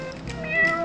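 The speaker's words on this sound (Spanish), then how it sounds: "¡Era un gato asesino!" A cat meows once in a video game, a short, loud, rising cry with clear harmonics, heard over a steady game background and music.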